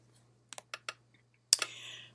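A few crisp computer keyboard keystrokes typing a symbol name, spaced singly then a louder cluster of clicks near the end, close and alone over a faint steady hum.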